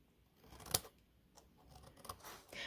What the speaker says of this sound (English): so I can just go ahead and trim